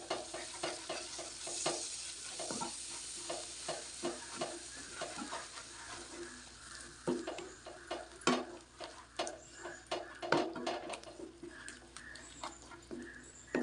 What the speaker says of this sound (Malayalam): തൈരും കൂടെ ചേർത്ത് നന്നായിട്ടൊന്ന് ഇളക്കി യോജിപ്പിക്കാം